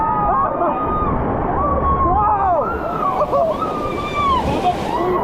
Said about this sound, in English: It's like a river rapids, but it's on a lazy river.